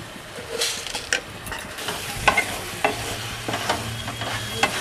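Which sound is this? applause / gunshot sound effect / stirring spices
stirring spices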